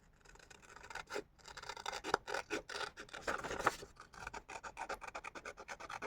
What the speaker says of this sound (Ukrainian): Потім по контуру ножицями виріжу